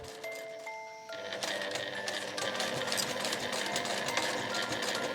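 Sewing machine stitching a zippered cooler bag made from fabric scraps, a steady continuous mechanical whir that speeds up after a short start and runs loud and close with no talking.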